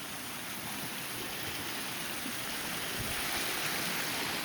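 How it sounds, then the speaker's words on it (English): A creek swollen to about twice its usual size by a morning of torrential rain, with runoff pouring off the ridge. The water makes a steady, broad rushing roar that stays constant throughout, and nobody speaks. "So yeah, our creek is usually half this size. And that's water running off the ridge."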